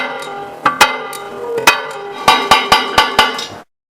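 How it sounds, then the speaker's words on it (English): Thick glass is tapped along a circular cut, giving about a dozen sharp, ringing knocks, some single and some in quick succession, close and loud, ending abruptly in silence. "Open the whole circle at the lowest tapping force possible in the opposite direction to that in which the cut was made."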